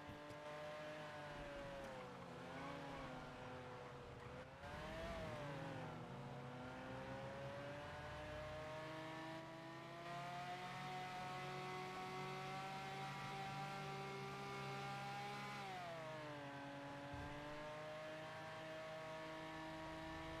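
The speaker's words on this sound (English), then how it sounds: "This is what the Lamborghini should sound like" A Lamborghini Aventador engine in a video game revs steadily, with pitch rising and falling as the car speeds up and slows down, plus brief tire noise, in a loud, continuous drone.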